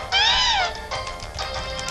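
A cat Pokémon's cry from the Pokémon Black and White video game, a loud synthesized meow that rises and falls once, followed by two fainter echoing tones, with no talk.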